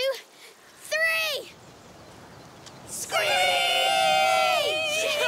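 Characters in A Plague Tale: Requiem screeching together like birds of prey, several voices imitating the cry in a long, loud, shrill chorus after an earlier short screech and some talk.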